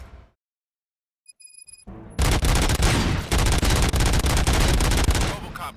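Rapid, loud gunfire from the video game Robocop: Rogue City bursts in after a few faint electronic beeps and near silence, becoming a dense, continuous barrage of shots.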